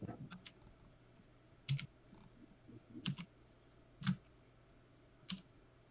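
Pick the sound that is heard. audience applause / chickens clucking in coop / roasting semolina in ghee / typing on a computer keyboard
typing on a computer keyboard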